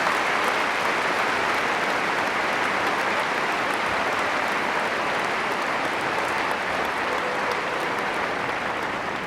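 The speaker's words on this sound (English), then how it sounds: "Let's give them a round of applause" A crowd at the FEI World Cup dressage at London Olympia applauds loudly and continuously, a dense, even patter of many hands clapping with no voices breaking through.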